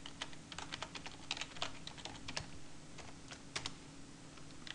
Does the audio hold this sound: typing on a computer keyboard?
yes